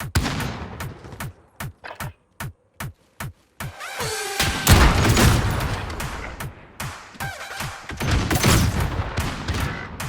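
Pistol gunfire in the Modern Warfare video game: a rapid string of sharp single shots in evenly spaced bursts, then denser overlapping gunfire and explosions from a busy firefight.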